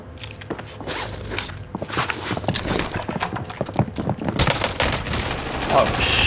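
AS VAL rifle fire in the video game Warzone, rapid bursts of crackly shots mixed with footsteps and clatter, fairly busy and mid-level.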